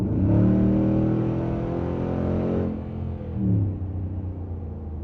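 A Nissan Titan pickup fitted with Flowmaster Flow FX mufflers accelerates hard with a loud, deep exhaust rumble that climbs in pitch, then dips at a shift and pulls again, with no voices.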